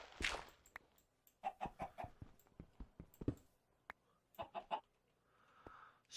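Chickens in the Minecraft video game clucking in short bursts of several quick, bright notes separated by pauses, fairly faint but clear with no talking.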